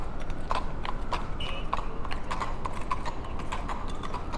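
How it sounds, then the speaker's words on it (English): Horse hooves clip-clop in a steady, repeated rhythm on a New York City street, moderately close, over a constant wash of city background noise. "Beautiful horses."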